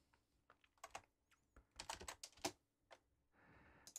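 Fingers type a folder name on a computer keyboard, giving close, crisp key clicks in short irregular bursts, followed by a softer sustained rustle near the end.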